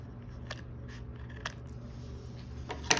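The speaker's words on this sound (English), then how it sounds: "I'm just taking my scissors and following the edge" Several crisp scissor snips trimming paper along an edge at close range, spaced irregularly, with a sharper cut at the end and no talking, making greeting cards.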